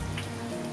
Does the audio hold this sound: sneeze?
no